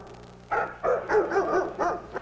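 Barks from a dog named Benny, sampled and played on a keyboard in the key of G during a live concert show, come as a run of six or seven pitched, evenly spaced yelps, fairly loud and close, with no talking over them.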